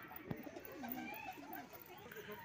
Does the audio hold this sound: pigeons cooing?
yes